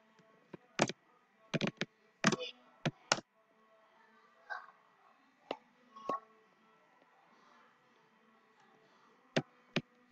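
Someone types on a computer keyboard in a quiet room, making scattered sharp key clicks in quick little clusters with pauses between.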